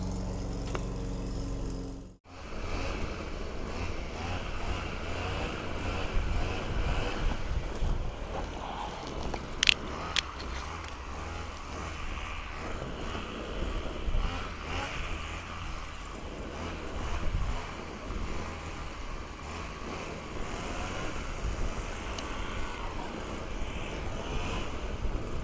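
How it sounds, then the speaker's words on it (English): A lawn mower cuts grass near a holiday park in Rooskey, Roscommon, giving a continuous, fairly loud engine drone with wind buffeting the microphone and no talk. "someone's cutting the grass"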